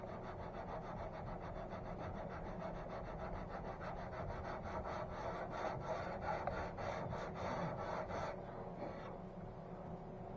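Steady back-and-forth sanding strokes on a wooden Sovereign of the Seas ship model, a close, rhythmic rasping scrape that keeps an even pace throughout.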